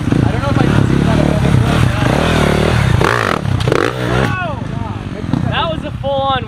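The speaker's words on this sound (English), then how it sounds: "That was a full-on wheelie." An enduro motorcycle engine revving hard through a wheelie, loud and close with rising and falling engine pitch and some clatter, while people talk and exclaim over it.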